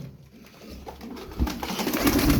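Makineli tumbler pigeons coo in a loft, soft throaty calls rising over a low background rumble and faint rustling, growing a bit louder toward the end with no voices present.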